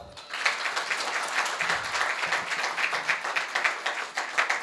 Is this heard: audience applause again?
yes